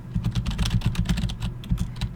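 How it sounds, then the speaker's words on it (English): Rapid, steady typing on a computer keyboard, close and clear, a dense run of key clicks with no voices. "that's not where I want to be typing"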